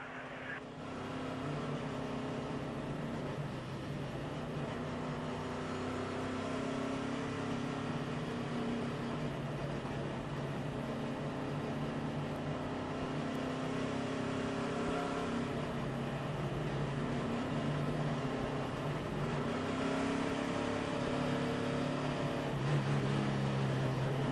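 NASCAR stock cars roar around the track at the 2005 Chevy Rock & Roll 400, a sustained droning engine chorus with shifting pitch as the field circles, steady and fairly loud, with no voices.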